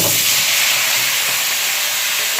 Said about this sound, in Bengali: সর্ষের তেল গরম হয়ে গেছে, এর মধ্যে শুকনো লঙ্কা দিয়ে দেওয়া হলো, আর এর মধ্যে দিয়ে দেওয়া হলো 5 ফোড়ন